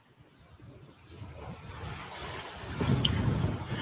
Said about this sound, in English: sorry if it's too windy